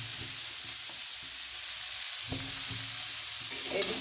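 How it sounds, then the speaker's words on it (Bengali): Turmeric frying in oil for pulipithe, a steady close sizzle with a few soft knocks of stirring and a brief brighter crackle near the end. "এই হলুদ এটা দিয়ে ভালো করে তেল দিয়ে ভেজে নিচ্ছি,"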